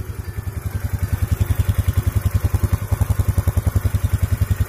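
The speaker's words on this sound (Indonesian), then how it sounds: "sudah langsam" A carbureted Honda Beat scooter engine idles steadily after a major service, a close, loud, even low putter of rapid regular firing pulses with a light mechanical clatter and no voices.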